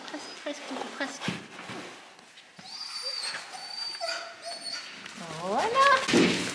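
A sled dog on a winter glamping outing whimpers and gives short high yips, several thin cries near the end, while a person talks quietly and moves around nearby.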